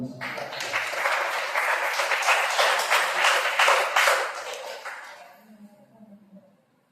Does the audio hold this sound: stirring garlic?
no